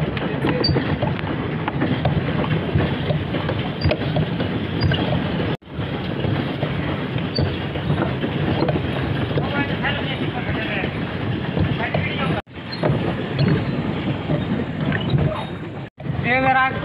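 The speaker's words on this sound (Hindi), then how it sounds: "दोनों बोट को एंजॉय कर रहे हैं" On a boat ride across the water at Rana Resort in Nankana Sahib, a continuous rumbling drone of the boat and water runs loud under people talking, broken by a few abrupt cuts.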